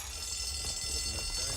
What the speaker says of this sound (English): It's only the alarm.